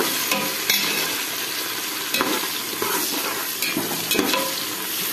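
Onion, mint and green chili sizzle steadily in a pan while being stirred for chicken biryani, with scraping spatula strokes popping up every second or so over the continuous frying hiss, close and fairly loud, no talking.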